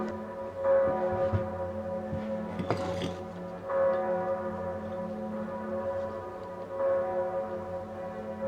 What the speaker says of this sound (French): Il y a vraiment des sons de cloche incroyables de la cathédrale en ce moment.